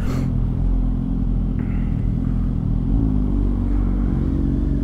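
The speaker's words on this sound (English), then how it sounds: "I think he's got an arrow exhaust on that as well." A Kawasaki Ninja 1000SX motorcycle fitted with an Arrow aftermarket exhaust rumbles with a deep, throaty burble close by, alongside low road noise from a vehicle.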